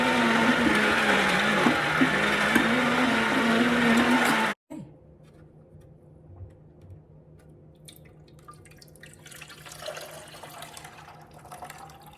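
A home juicer switched on and whirring steadily and loudly for several seconds, then cutting off abruptly, leaving a quieter background with faint drips and rustling.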